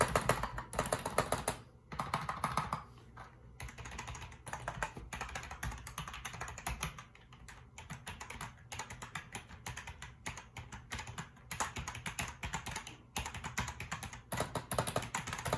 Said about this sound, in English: we're going to continue with the sound test